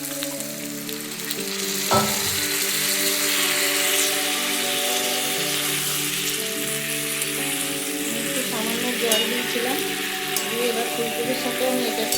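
Cauliflower and potatoes fry in a pan, a steady sizzling hiss with a thump as pieces are added early on, then continuous crackle with occasional stirring scrapes.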